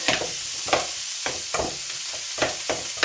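Sausage and leftover rice fry with a constant bright sizzle in a pan, broken by rhythmic scraping strokes as a spatula mixes them, roughly every half second.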